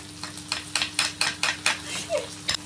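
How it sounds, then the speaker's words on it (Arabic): A spoon stirs softening onions with a little sugar in a pan while Korean kimchi is being cooked, making a regular series of scraping, clinking strokes about twice a second over a faint steady hum. "ونحرك جيدا الى ان يدبل البصل"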